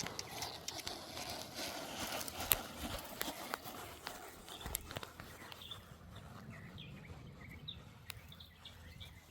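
Faint hoofbeats of a ridden horse moving steadily across ground outdoors during a riding lesson, with birds calling softly in the distance.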